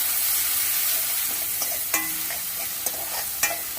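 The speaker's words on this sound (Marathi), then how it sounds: "आता हे चांगलं हलवून घेते मी." Crushed garlic, ginger and green chili fry in a pan while being stirred, giving a steady close sizzle broken by a few sharp scrapes and taps of the spoon against the pan.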